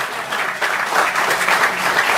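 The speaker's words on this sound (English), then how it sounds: "I got claps" A studio audience on a late-night talk show applauds steadily, a dense, even wash of clapping that stays loud and close throughout with no speech over it.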